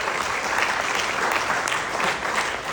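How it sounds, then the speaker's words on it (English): Seminar audience in Singapore claps in a sustained, dense round of applause, loud and close, with a faint murmur of voices underneath. "Can we give a big round of applause,"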